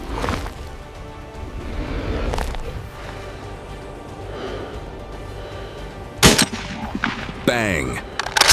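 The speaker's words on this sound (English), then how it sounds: "Bang! The gunshot echoed through the dry forest." A single gunshot cracks through a dry forest while a Komodo dragon hunt is underway in Indonesia, a sharp loud bang followed by a brief decaying echo, with other rumbling effects and whooshes around it.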